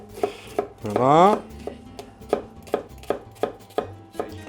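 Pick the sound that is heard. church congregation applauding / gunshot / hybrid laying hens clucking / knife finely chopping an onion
knife finely chopping an onion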